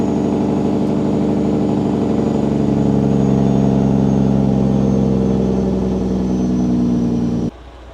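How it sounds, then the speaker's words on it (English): A truck engine rumbles steadily at close range for about seven seconds, a low droning growl that cuts off abruptly near the end. "how about some engine brake"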